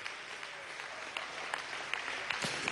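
Audience applause for the female admiral in chief at a Venezuelan presidential event: steady, dense clapping with a few sharper claps standing out, heard at moderate distance.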